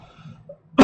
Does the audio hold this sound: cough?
yes